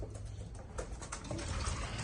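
Racing pigeons cooing softly nearby in a pigeon loft, a few low throaty calls over a quiet, muffled background.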